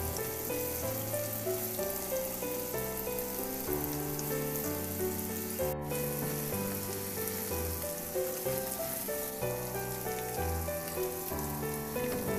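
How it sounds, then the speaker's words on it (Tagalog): Tofu fries in a pan with a steady sizzle under a continuous layer of background music, and no one speaks. "Lutuin lang hanggang sa maluto yung tokwa."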